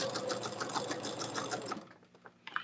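Sewing machine stitching a quilt block, a fast steady mechanical rattle that runs for under two seconds, stops, and is followed by a few faint clicks and handling sounds.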